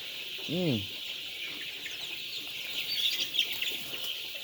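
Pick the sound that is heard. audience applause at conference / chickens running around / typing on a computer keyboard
chickens running around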